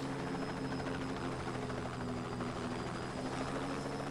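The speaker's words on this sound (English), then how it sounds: "And now Air Force chopper arriving shortly." An Air Force helicopter drones steadily with a constant rotor buzz and engine hum, moderately loud and unchanging throughout, with no voices.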